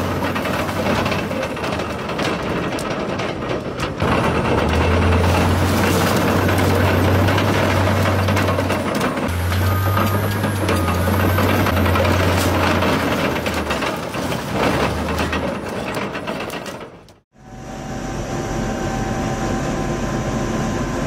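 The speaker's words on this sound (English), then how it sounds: "This is how the new 113-ton Cat D11T bulldozer is being tested in America." The engine of a 113-ton Cat D11T bulldozer roars loudly and continuously during a test, with a deep droning hum and mechanical clatter, then briefly cuts off before the noise resumes.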